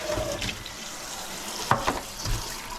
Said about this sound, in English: So now quick rinse in cold water.